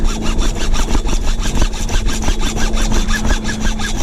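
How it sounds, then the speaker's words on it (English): A hacksaw cuts through PVC pipe in steady, rapid back-and-forth strokes, loud and close, with a rhythmic rasp continuing for the whole stretch. "it's not hard to cut some PVC pipe."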